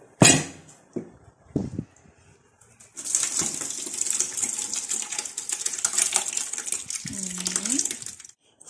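After a few brief knocks and clatters, a steady stream of water pours onto crushed grapes in a container for homemade red wine, splashing close by for several seconds before a short squeaky scrape at the end.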